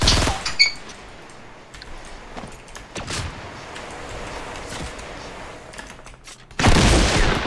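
Gunfire in the Fortnite video game: scattered sharp shots and short bursts spread across the stretch, with a louder burst near the end, no talk over it.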